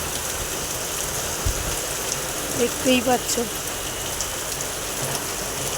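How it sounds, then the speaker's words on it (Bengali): Steady, heavy rain pours down on a street in a dense, continuous hiss, with a brief spoken phrase partway through. "প্রচুর বৃষ্টি পড়ছে"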